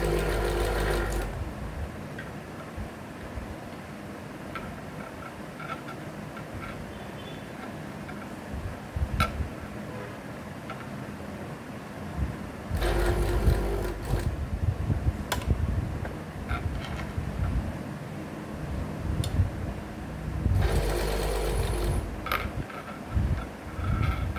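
Sewing machine stitching round lace onto cloth, a steady whirring hum with fast ticking, rising into louder full-speed bursts twice and easing back between them.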